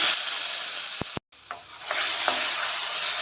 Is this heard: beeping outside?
no